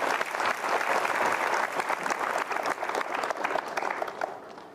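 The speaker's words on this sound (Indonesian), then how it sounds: "Berikan tepuk tangan sekali lagi." A television studio audience gives a sustained round of applause, dense clapping at full strength before thinning slightly toward the end.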